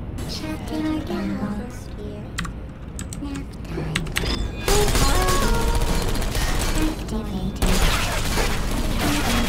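Turret gunfire from Portal 2 plays as rapid, crackling bursts that run through the whole stretch and grow louder and denser halfway through. Game music and other effects sit underneath.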